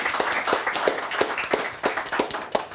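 An audience claps through a French television talk show's opening, a steady patter of hand claps at moderate level with no voices over it.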